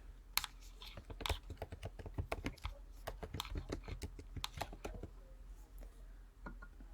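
Typing on a computer keyboard: a rapid, irregular run of close, crisp key clicks, fairly quiet, continuing steadily for several seconds before thinning to a few final taps.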